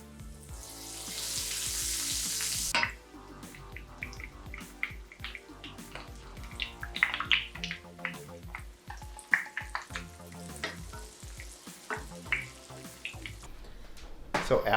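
Cornbread-coated pork chop dropped into hot oil, a strong hiss of frying for a few seconds that settles into quieter crackling and sizzling with clatters and handling sounds, voices talking over it.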